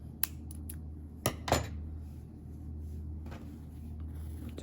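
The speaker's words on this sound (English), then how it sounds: "then cut off a good sized tail" Scissors snip off a crochet yarn tail with a few quick, crisp clicks up close, followed by light fiddling sounds in a quiet room.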